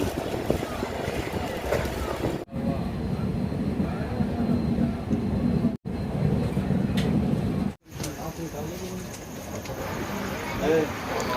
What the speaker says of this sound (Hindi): चलिए ट्रेन खुलने दीजिए।